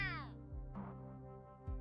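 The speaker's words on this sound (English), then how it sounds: "The meowing grows louder" A cat meows from behind a closed bathhouse window in a visual novel game, with a rising wavering cry at the start and fainter calls after it, close and clear over a soft music bed.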